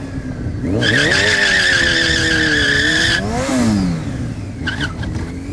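A motorcycle does a stunt-style burnout in slow circles, the engine revving loud and wavering while the rear tire screeches continuously, then easing off before a brief second squeal.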